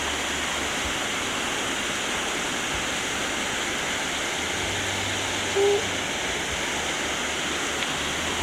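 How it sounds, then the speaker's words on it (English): A waterfall on an Appalachian creek after rain, a constant broad roar of rushing water, steady and fairly loud throughout with no talk. "And I found a waterfall."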